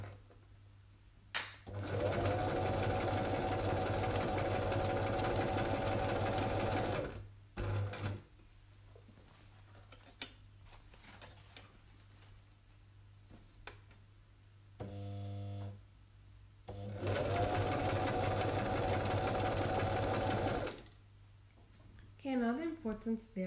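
Sewing machine stitching a crossbody cellphone pouch, two long steady runs of fast mechanical whirring with short pauses and clicks between, close, while a person talks during the pauses.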